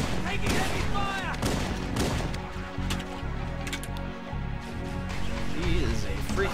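Dense, continuous gunfire from the video game Halo CE, with broadband bursts of shots and explosions filling the whole stretch at steady loudness, layered with game music and talk.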